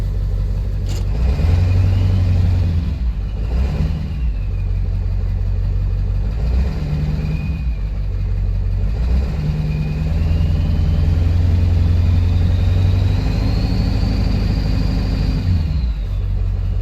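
A 7.3 Powerstroke diesel truck with about 412,000 miles, exhaust basically straight-piped with the muffler removed, rumbles steadily up close with a rising turbo whistle above the engine drone.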